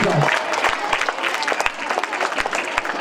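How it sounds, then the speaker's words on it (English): Students applaud at a school results celebration, a dense, steady wash of many hands clapping close by with a few louder individual claps, while voices murmur underneath. "Give a big round of applause for that"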